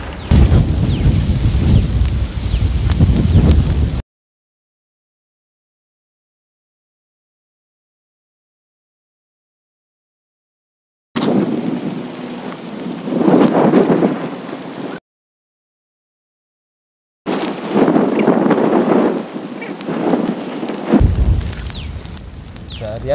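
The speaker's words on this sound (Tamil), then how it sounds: "காற்று வேற பயங்கரமாக அடிச்சுட்டு." Strong wind blows hard outdoors while palm fruit burns on an open fire, roaring and buffeting the microphone in loud broadband gusts, with the sound dropping out completely in two places.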